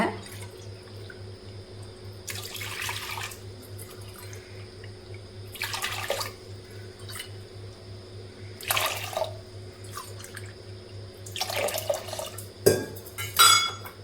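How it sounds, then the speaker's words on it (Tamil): Water is poured into wheat rava (cracked wheat) for cooking, four cups' worth, in a kitchen. About four separate splashing pours are spaced a few seconds apart over a steady appliance hum, with no talking. "அதே கப்பால் நாலு கப்பு தண்ணி சேர்த்துக்கோங்க"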